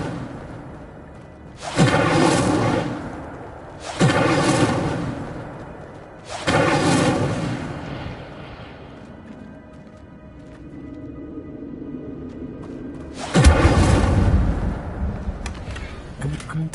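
A spell cast in a wizard video game, four heavy whooshing bursts of magical fire spaced a couple of seconds apart, the last one deeper and booming, with soft game ambience between them.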